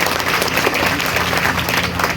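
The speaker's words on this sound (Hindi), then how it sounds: "मैं अनुरोध करूंगा एक बार उस बच्चे के लिए आप सभी लोग जोरदार तालियां बजाएंगे" Dense, steady applause from a large audience at a public village gathering, loud and continuous with a murmur of crowd noise underneath.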